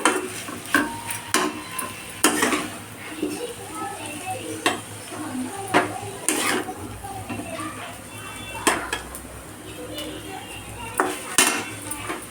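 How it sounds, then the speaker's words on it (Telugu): Ivy gourd and coconut fry scraped from a pan into a bowl, with a string of loud metallic clinks and scrapes of a spoon against cookware, some faint sizzle underneath. "దొండకాయ కొబ్బరి కూర ఫ్రై ఓకే బౌల్లో షిఫ్ట్ చేసుకుందాం"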